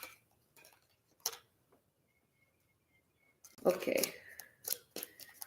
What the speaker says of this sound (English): That's been shuffled back into the deck.